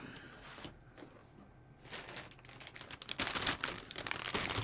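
Resealable plastic bag being handled during a model kit unboxing, with faint crinkles building into denser, louder rustling and crackling bursts toward the end, close to the microphone and without speech.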